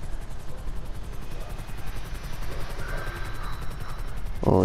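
A helicopter in the video game GTA 5 gives a steady, loud rotor and engine roar that fills the whole stretch, with a louder burst of noise right at the end.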